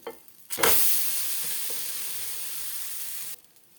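Pieces of leftover roti bread sizzle loudly in an oiled pan as they are flipped with a spoon, a sudden burst of frying hiss that holds steady for about three seconds before dropping away.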